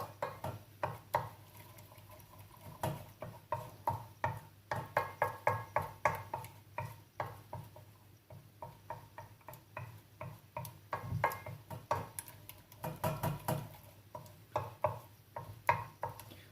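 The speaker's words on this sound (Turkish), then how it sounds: "Böyle eze eze karıştıracağız." Spoon mashing and stirring beetroot and carrot tarator in a bowl, a steady run of soft, close taps and scrapes repeating throughout, with no talking.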